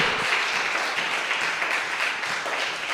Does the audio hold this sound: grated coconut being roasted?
no